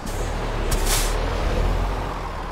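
A truck's air brake releases in Euro Truck Simulator 2: a loud burst of hissing air near the one-second mark, over a steady low engine idle, with no talking.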